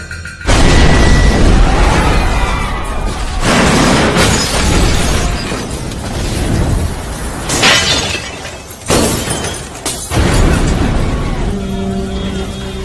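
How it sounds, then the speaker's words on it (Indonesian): A bus blown up by a bomb in an Indian action film, with loud bursts of shattering and booming debris in several heavy waves broken by short pauses. "bis itu meledak, menyebabkan korban luka hingga meninggal dunia"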